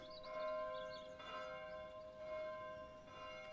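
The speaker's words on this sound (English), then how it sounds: "Church bells, isn't it?" Sunday church bells ring in slow repeated strikes, distant and soft, their tones lingering and overlapping with no voices.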